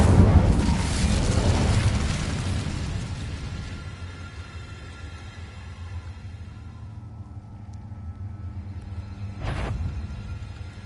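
A fire spell is cast in a Harry Potter video game, giving a loud, roaring blast of flame that rumbles and slowly fades, followed by a second sharp burst near the end.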